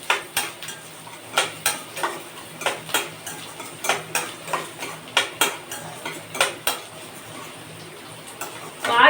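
Cut green beans cooking in oil for homemade chicken fried rice, stirred with a spatula that gives a steady series of sharp clacks against the pan, roughly twice a second, over a faint sizzle.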